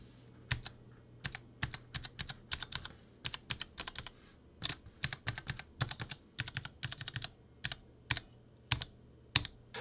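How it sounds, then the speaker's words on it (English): Womier K66 mechanical keyboard with Gateron Red switches, keys clacking in quick irregular bursts, some strikes carrying a springy, metallic ring; close and fairly quiet, no voices. "a very noticeable like springy noise when certain keys are hit"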